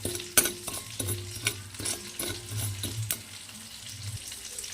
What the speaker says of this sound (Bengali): চালটাকে একটু লাল লাল করে ভেজে নিতে হবে